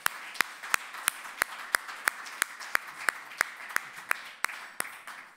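At a lecture event in Amsterdam Zuidoost, an audience claps in a steady, fairly rhythmic applause, with one close pair of hands snapping out crisp, regular claps above the softer crowd clapping throughout.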